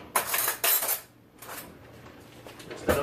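Salt and butter stirred into cooked rice in a pot with a spoon, several bright metallic scrapes and clanks in bursts with short quiet gaps, close and fairly loud.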